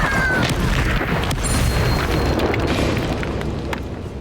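Hogwarts Legacy on Nintendo Switch: the Incendio fire spell erupts as a loud, sustained roaring blast of flame, booming and crackling steadily for about four seconds before easing slightly at the end.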